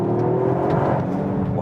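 A 2021 Toyota GR Yaris with a 261 hp engine and AWD accelerates hard in second gear on a wet road, heard from inside as a loud, rising engine drone with rumbling tire noise.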